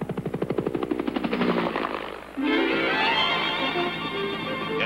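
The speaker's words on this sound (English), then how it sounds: "the helicopter provided a vertical dimension to the care of wounded" A military medical-evacuation helicopter of the kind used in Korea and Southeast Asia, its rotor chopping in steady, rapid pulses for about two seconds before giving way to a smoother, continuous mechanical drone.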